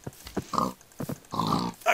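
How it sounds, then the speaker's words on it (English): A baby pig from the video game Minecraft gives a few short grunts and snorting oinks in quick, uneven bursts, close and clear, with no talking over them. "Sorry, baby pig again."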